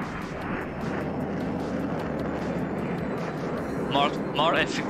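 An F-15 fighter jet roars in a steady, dense wash of engine noise that holds for the whole stretch, with a couple of brief chirping tones near the end.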